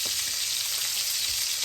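Beef tenderloin steak sizzling in a hot pan, a loud, steady hiss of frying fat with fine crackles, continuous and close with no voices.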